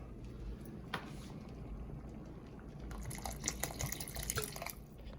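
Liquid drips and splashes into a pot of chicken soup amid quiet kitchen background noise, with a short pour and clinking near the end.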